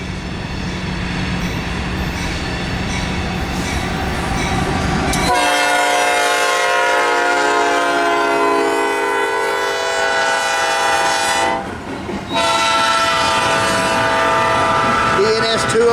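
A Norfolk Southern 204 intermodal freight train rumbles past, then a loud multi-note air horn sounds steadily for several seconds, breaks briefly and resumes, with a wheel squeal rising near the close.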